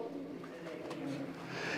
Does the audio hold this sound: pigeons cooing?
yes